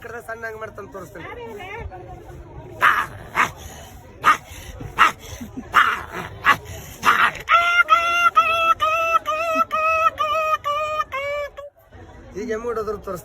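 A man imitates a small dog barking near a big dog, producing a series of short yapping barks followed by a run of rapid whining yips, close and loud, with brief talk at the start.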